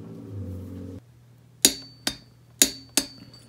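A torque wrench tightening cylinder studs on a Honda 400ex engine gives four sharp metallic clicks, each ringing briefly, spaced irregularly about half a second apart after a low hum that cuts off.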